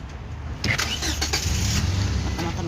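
A car engine rumbles close by on a road in hot weather, a steady low drone that swells after the first half-second and holds, with a faint voice briefly underneath.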